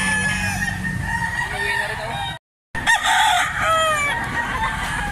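Several roosters crow in overlapping calls among clucking chickens at a bustling poultry sale, loud and near, cut by a brief gap partway through.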